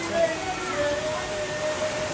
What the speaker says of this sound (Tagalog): Malakas po ang ulan, sobra.